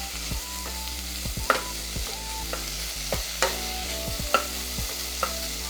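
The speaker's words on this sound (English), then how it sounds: "That's why we are starting with the bacon. Let's just throw this right in here, get that cooking." Bacon sizzling and frying in a pot for a keto Tuscan Italian soup, a steady faint crackle broken by several sharp clinks and scrapes of stirring.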